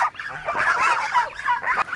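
Domestic geese and ducks call together in a backyard flock, a loud, close burst of honking and squawking cries that overlap continuously.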